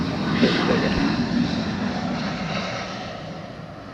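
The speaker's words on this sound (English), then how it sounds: "It looks like we've got Spirit, flight 988, going to the Motor City, Detroit, on a Airbus A321neo." A Spirit Airbus A321neo jet on runway 26 left at Atlanta airport, a steady jet engine rumble heard from a distance, slightly stronger at first and gradually easing, with a voice briefly audible early on.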